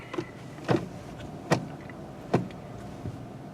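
Power windows of a Mitsubishi Mirage rental car give several short whirring and clunking bursts, each window motor starting and stopping in turn, close and fairly quiet inside the cabin.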